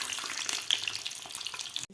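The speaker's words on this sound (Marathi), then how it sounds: "अंडंसुद्धा आपल्याला व्यवस्थित फ्राय करून घ्यायचं आहे" A boiled egg fries in hot oil, giving a steady close sizzle and crackle across the whole short stretch, with no talking.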